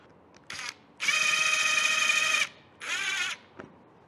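A power drill drives screws while installing rod buckle straps, with one short burst, a long steady high-pitched whine of about a second and a half, then another shorter run, close and loud.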